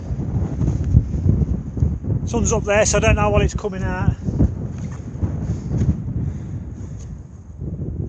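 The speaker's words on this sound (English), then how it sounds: "It's a bit windy up here," Wind on the mountain top of Cadair Idris buffets the microphone in a continuous low rumble, loud and gusty, while someone talks briefly over it partway through.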